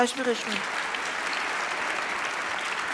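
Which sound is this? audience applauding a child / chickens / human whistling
audience applauding a child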